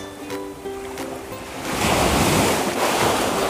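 Sea waves wash onto the Teluk Awur beach shore in Jepara, a soft wash that swells into a louder, rushing surge halfway through, with wind buffeting the microphone.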